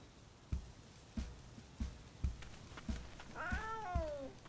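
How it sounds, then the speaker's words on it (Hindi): A wild cat in a cartoon meows in a rising-then-falling wail near the end, loud and close, after a series of regular soft thumps. "ये एक जंगली बिल्ली है और यही जगह इसका घर है"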